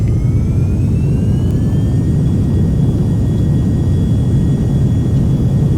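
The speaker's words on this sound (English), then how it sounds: "Takeoff power is set." Beechcraft Premier IA business jet in X-Plane 11, both engines held at takeoff power, a loud steady turbine roar with a faint rising whine, constant and unbroken throughout.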